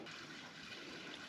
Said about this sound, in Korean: 계곡 물소리가 졸졸졸졸졸